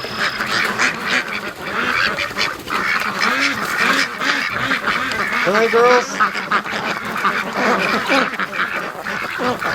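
Several ducklings quack in a busy, continuous chorus, some calls close and loud, while someone talks to them over the racket.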